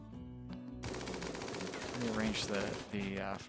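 A mech's minigun in RimWorld opens up in a continuous high-rate rattle after a short quiet lead-in, loud and unbroken with a brief dip near the end, over background game sounds.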